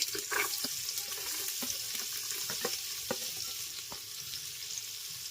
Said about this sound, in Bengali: মিডিয়াম ফ্লেমে নারকেলটাকে আমি একটু ভেজে নেব